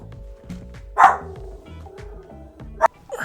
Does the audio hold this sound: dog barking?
yes